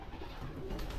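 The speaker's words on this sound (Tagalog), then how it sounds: "Dami na nating ibon." Pigeons in a loft give soft, low cooing calls over a quiet, faintly hissing background, with no talking.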